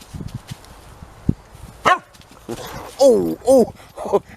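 A dog gives a few short barks on command near a tent, mixed in with a voice urging it on and a spoken imitation of a woof.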